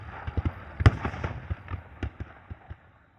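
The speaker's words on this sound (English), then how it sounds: "the sound of Union rifles in the distance covered their retreat" Distant Union rifle gunfire, a scattered run of sharp cracks and pops of varying loudness, irregularly spaced and echoing faintly, with no voices.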